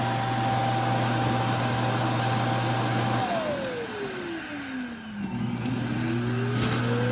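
Steady loud suction roar of an iRobot Roomba i3+ dock sucking out the robot vacuum's bin, with a whining tone that dips in pitch midway, then climbs back up again, close and continuous.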